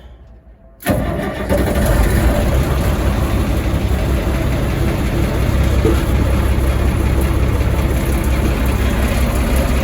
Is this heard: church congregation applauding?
no